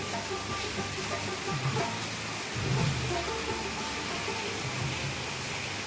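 Steady rain falls outside on a cool morning, a dense even hiss with a faint low rumble underneath, heard alone without talk.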